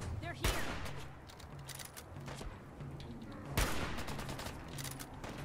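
Gunfire in a first-person shooter game, two sharp loud shots about three seconds apart over a steady din of game ambience and low hum, with a player talking in the background.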